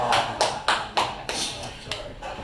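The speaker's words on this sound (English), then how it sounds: "you can clap all you want" Scattered handclaps from an audience at a poetry reading, a handful of sharp separate claps spaced irregularly, fairly close and moderately loud over a quiet room.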